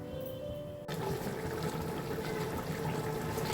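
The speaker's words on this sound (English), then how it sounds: "Now we are going to boil this water" Water heating in a cooking pot for a one-pot rice, potato and chicken meal, a steady close hiss and churning bubble that swells in abruptly after a quiet start and then holds evenly.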